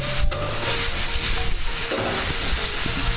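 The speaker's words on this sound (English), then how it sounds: "I just love that sizzle of a pan" Chicken sizzling in an oiled frying pan, a continuous loud crackling fry with occasional clinks of a utensil against the pan, close up and without talk.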